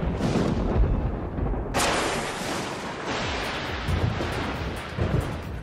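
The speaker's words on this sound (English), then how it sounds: "We've all seen lightning during a thunderstorm." Thunder rolls and rumbles through a thunderstorm, a loud, sustained roar with a sharp crack near the two-second mark and swelling booms afterward, accompanied by steady rain and no voices.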